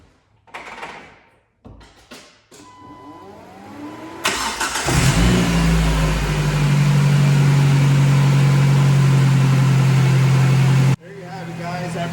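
A Jeep Wrangler that has not run in nearly two years cranks briefly, catches and settles into a loud, steady idle close by. Faint talk comes before the engine fires.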